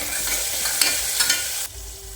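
Peanuts and green chillies go into a hot pan with tomatoes for farali moriya khichdi, giving a steady close sizzle with stirring scrapes for about two seconds before the frying noise drops sharply.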